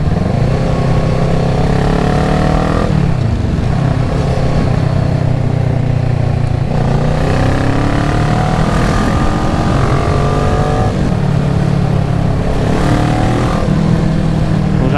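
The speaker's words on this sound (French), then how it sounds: "Elle fait un joli petit bruit. Dessus il y a un double pot X-Seal." A 2014 Kawasaki ER6-N parallel-twin motorcycle engine fitted with a twin X-Seal exhaust runs loud and close, its pitch rising and falling through several rev sweeps with no talking.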